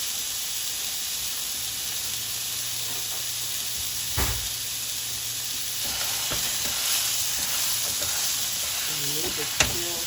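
Frozen beef taco meat frying slowly in a pan, a continuous low sizzle and hiss with a couple of brief clacks of utensil against the pan.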